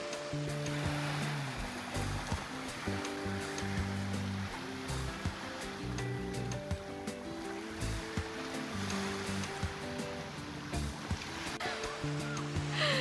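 Sea waves wash in front of a beachfront place in Dauin, Negros Oriental, a steady rushing surf with low rumbling tones, fairly faint and continuous.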